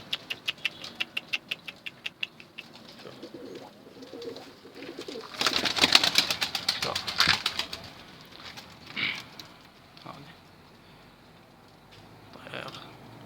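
Iraqi blue pigeons in a loft coo in a rapid pulsing series, then a loud burst of wing flapping, followed by scattered softer coos and flutters close by.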